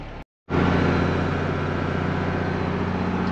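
A 40-year-old Unimog truck driven on a beach, its engine cutting in after a brief silence and then holding a loud, steady, close-up rumble that stays level throughout.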